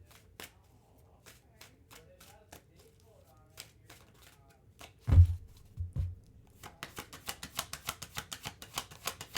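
Tarot cards being shuffled and drawn during a reading: soft papery flicks and taps, a couple of heavier thumps near the middle, then a quick run of close riffling card sounds toward the end.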